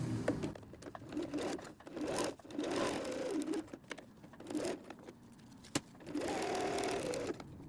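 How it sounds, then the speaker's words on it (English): A sewing machine stitches through a Velcro wallet in several short bursts with brief pauses between, a close, soft mechanical whirring. "now we're going to sew this one, and we can sew it, like I said, right on the Velcro side this time"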